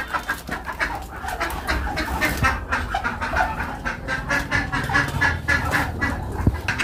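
Backyard ducks and chickens make a continuous, busy chorus of clucking and squawking from several birds at once. It is fairly loud and close, with no talk over it.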